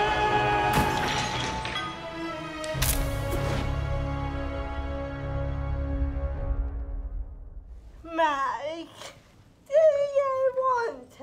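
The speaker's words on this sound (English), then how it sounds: "Keep smashing stuff." Things being smashed: two loud crashing impacts near the start ring out into long, fading resonant tails, followed by strained voices and moaning sounds as people react.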